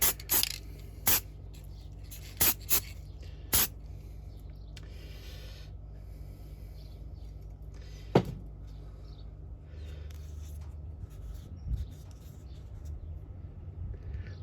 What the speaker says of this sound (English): give it a good spray everywhere